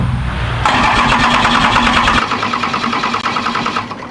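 A 12-valve Cummins diesel cranks and catches, then settles into a rough, loud idle with a rattly, uneven knock, heard close up with no talking.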